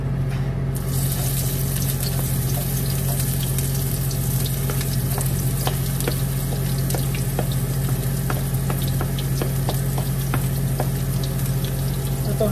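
Sliced onion sizzling steadily in hot oil in a pan for chicken adobo with pineapple, a continuous hiss with faint crackles and utensil taps throughout, with no talking.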